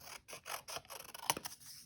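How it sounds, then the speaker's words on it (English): Scissors snip through origami paper scraps, a few quiet, close crisp cuts with a sharper click near the end, with no talking. "You take your scissors and you're going to cut."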